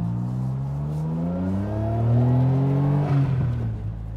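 A Suzuki Cappuccino revs and accelerates on a test drive, its small engine rising steadily in pitch through the gears from inside the cabin, loud and continuous with no talk.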